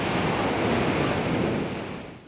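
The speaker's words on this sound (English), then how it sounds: "A storm surge overwhelms a low-lying coastline" Storm-surge waves crash against a low-lying coastline in a broad, roaring wash of surf with wind buffeting the microphone, loud and continuous before easing off at the end.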